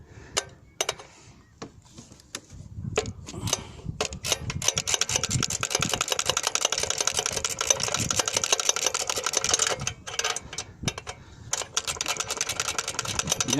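Rapid clicking of a flat ratchet wrench loosening a clamp on the EGR valve of a Renault Laguna 3 2.0 dCi, a dense run of small metallic ticks, close and steady, with a few brief pauses.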